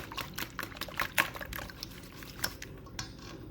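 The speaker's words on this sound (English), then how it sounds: "we're just gonna whisk it together, our milk, until completely combined" Milk and seven whole eggs whisked together in a bowl for crepe batter, quiet close sloshing with light whisk clinks against the bowl in an irregular rhythm.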